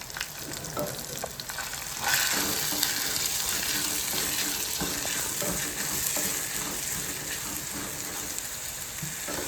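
Sliced onions and green chillies frying in a pan, a dense bright sizzle that swells after a couple of seconds and stays steady, with occasional stirring scrapes close by.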